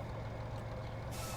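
A truck in Farming Simulator 25 gives a steady engine rumble with an air-brake hiss and reversing beeps, all close and continuous for a brief moment with no talking.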